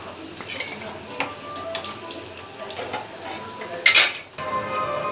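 Bottle gourd curry with jaggery being stirred in a pan, a soft steady sizzle broken by a few scraping strokes and one louder clatter near the end, with no talking.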